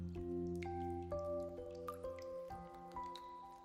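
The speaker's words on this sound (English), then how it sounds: "That's not the sound of the sea, that's the sound of the rain." Rain in Wuthering Waves: resonant watery drips plink one after another in a slow, uneven sequence, soft and close.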